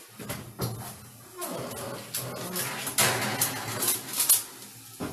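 A baking tray of keto sausage balls comes out of the oven with a series of metallic clanks, scrapes and an oven door sliding, fairly close, amid kitchen bustle.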